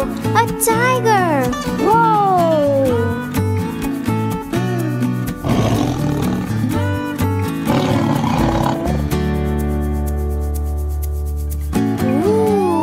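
A tiger roars in a children's animated educational cartoon. Loud, drawn-out roaring plays over upbeat cartoon music and sound effects.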